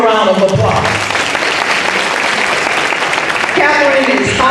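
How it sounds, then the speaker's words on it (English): An audience at an NAACP Mother of the Year event breaks into a round of applause, loud dense clapping that runs steadily for several seconds. "Let's give her a round of applause."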